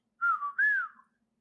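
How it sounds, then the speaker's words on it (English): A grandmother whistles in place of spoken words, two clear, pitched whistled phrases in quick succession, the first gliding downward and the second rising then falling, close and fairly loud with no talking. "she would do this thing with my grandpa and me and my brothers where she would kind of whistle talk"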